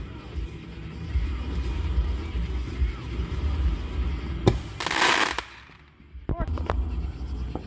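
Outdoor summer fireworks set off by people: a sharp bang, then a sustained hissing burst and scattered crackling pops, loud and nearby, with voices and shouting in the background.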